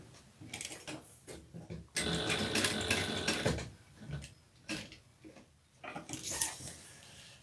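A sewing machine basting a fabric strap runs in short stitching bursts separated by pauses, with one longer rapid run in the middle, close and moderately quiet.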